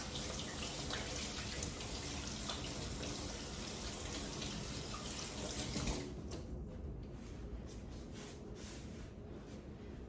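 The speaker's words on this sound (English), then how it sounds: "All right, get my hands washed up." A kitchen faucet runs steadily into a sink while hands are washed under it, a continuous close hiss of splashing water that thins slightly near the end, with no talking.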